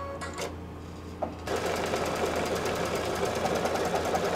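An embroidery sewing machine stitches a tack-down stitch: after a few faint taps and a short pause, a loud, fast, steady mechanical needle rattle starts and runs continuously up close.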